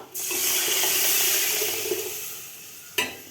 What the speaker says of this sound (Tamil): இப்போ நம்ம கரைச்சி வச்ச தக்காளி, புளி, இந்த தண்ணியை ஊற்றிட்டு நம்ம தண்ணி ஊற்றணும்